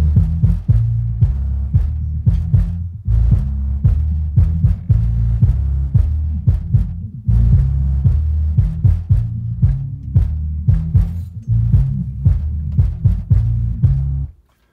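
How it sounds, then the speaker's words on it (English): A Definitive Technology Powerfield Supercube I subwoofer pumps a song in a garage, a heavy, steady bass line with thumping beats throughout, carrying faint rattles of loose objects, then stopping abruptly at the end. "it's rattling everything in the garage here, and there's a lot to rattle, but the woofer is very clean sounding"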